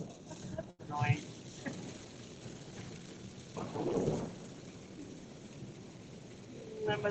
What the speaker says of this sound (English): thunderstorm or something.